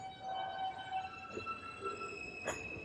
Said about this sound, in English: Okay, one train came.